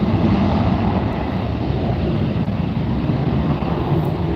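A Delta airliner departs from an LAX runway with a loud, steady jet roar that stays strong and fairly constant throughout.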